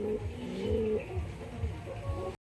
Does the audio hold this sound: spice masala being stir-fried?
no